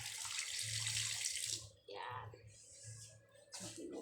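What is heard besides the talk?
water running from a kitchen tap into a cooking pot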